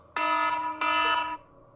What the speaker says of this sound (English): That is obviously my alarm